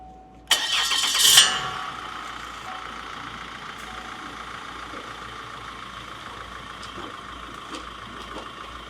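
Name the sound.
car engine starting and running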